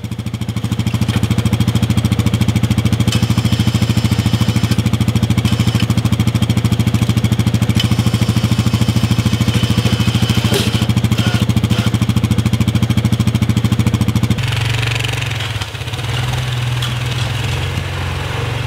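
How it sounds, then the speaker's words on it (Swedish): A winch on a timber trailer pulls a sling tight around a log load, its engine droning loud and steady close by, then dropping in pitch near the end as the strain eases. "Slå en snara runt lasset och dra åt med vinschen."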